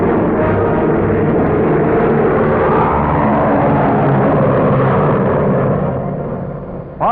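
A 1946 test plane carrying an aerial television camera, a loud continuous engine roar that holds steady and fades slightly near the end.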